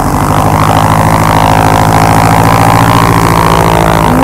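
A small airplane engine warming up on the ground at a countryside airfield in the USA, with a steady, loud droning hum and propeller rumble holding constant throughout, no talking.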